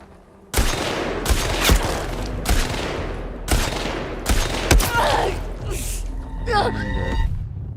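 Rapid bursts of video game gunfire, several loud clustered volleys in an uneven rhythm, followed by a brief whine and electronic tones near the end, with someone speaking over the shots.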